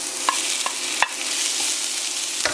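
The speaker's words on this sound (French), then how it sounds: "on commence la cuisson des légumes. Donc là on va ajouter uniquement la courgette et l'oignon" Courgette and onion fry in a pan with a steady, loud hiss, broken by a few sharp stirring clicks and scrapes.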